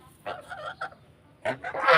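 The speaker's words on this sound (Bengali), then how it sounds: "একটা ছেলে রাজা হাঁস আর একটা মেয়ে রাজা হাঁস" A pair of domestic geese, one male and one female, give several nasal honks in short, uneven bursts, close and fairly soft, the last call longer and harsher.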